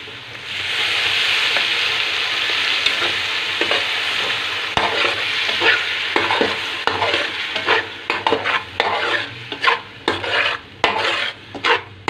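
Tomatoes frying and sizzling in a garlic-ginger paste masala for bhindi masala, with a steady hiss at first, then stirring and spoon scrapes clattering against the pan in uneven bursts.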